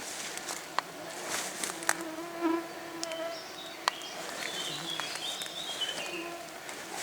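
Bees and mosquitoes buzz and whine close by in a swamp, a dense steady hum of many wings with a few sharp clicks and faint rustling throughout.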